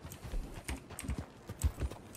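Horse hooves clip-clop in a video game, a quick, uneven series of soft thuds at a trotting pace, moderately close over quiet background.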